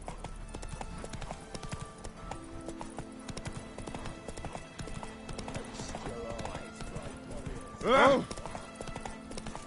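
Geralt's horse Roach gallops in The Witcher 3, a steady, rapid clip-clop of hooves running throughout, with a short exclamation from a man near the end.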